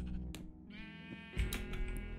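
Sheep in Minecraft bleat, two or three short wavering cries close by over a quiet game backdrop, with no talk.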